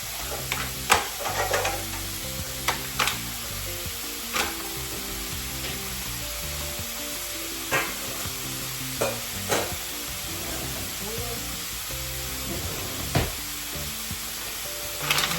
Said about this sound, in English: Give this a good stir, and we're going to cover it